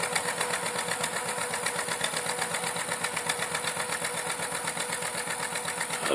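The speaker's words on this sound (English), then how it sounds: "he's got that little old popper John Deere." An old two-cylinder John Deere popper tractor runs steadily while cutting hay, its engine chugging in an even, rapid rhythm of pops, close and moderately loud with no voices over it.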